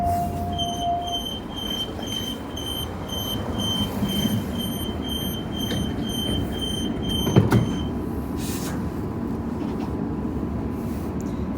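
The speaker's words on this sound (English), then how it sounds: "Doors closing." Train doors closing at Canning Bridge station on a Perth suburban line: a sustained warning tone beeping in a steady series, then a brief thud as the doors shut, with a quiet rail hum underneath.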